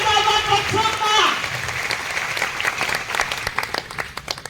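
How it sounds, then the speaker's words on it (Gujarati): Audience applause welcoming guests at an offline meetup in Ahmedabad, loud and dense at first, then thinning to scattered claps, with a voice speaking over the opening. "જોરદાર તાળીઓથી બરાબર સ્વાગત કરો"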